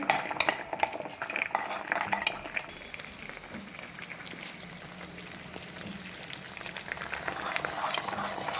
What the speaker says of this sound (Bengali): একটা কোনো পাত্রের মধ্যে সাবানটাকে গলিয়ে নিতে হবে